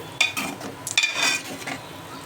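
Tomatoes cook in a pan for a tomato gravy curry, giving soft sizzling and the scrape of a stirring spoon against the metal in a few short bursts, fairly close and with no talking.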